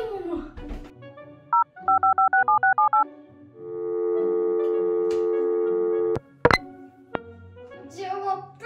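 Telephone dialing tones: a quick run of separate keypad beeps followed by a long steady tone, with short clicks and a little talk around them.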